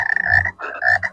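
A frog croaks in two bursts separated by a short gap, close and fairly loud, with no talk over it.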